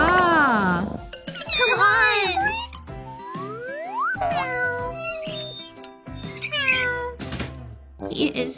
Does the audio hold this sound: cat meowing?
yes